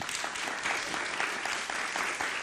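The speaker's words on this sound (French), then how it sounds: "vous pouvez applaudir tous les trois" After a panel presentation, an audience breaks into brisk, dense applause that is steady and fairly close, with no voices over it.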